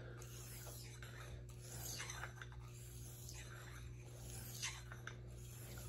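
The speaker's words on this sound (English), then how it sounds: "So probably now here I am on the 8K stone." A steel edge rasps rhythmically back and forth across an 8K convex honing stone, quiet repeated strokes over a faint steady hum.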